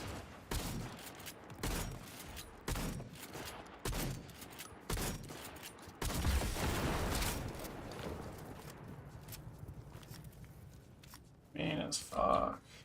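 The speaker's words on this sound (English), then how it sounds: "There's another shooting going on. Sniper." Gunfire from shotguns and sniper rifles in a shooting video game comes in repeated sharp bursts. A longer dense volley follows, with a player's voice talking over the action.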